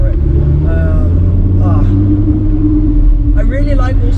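An Audi R8 V10 Plus driven flat out on the road gives a loud, deep engine rumble close by, running continuously beneath a man's speech.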